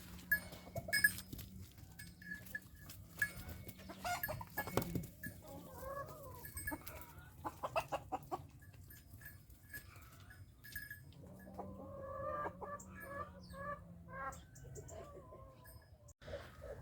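Chickens cluck and squawk in scattered bursts around a quiet farmyard, with occasional other animal calls mixed in.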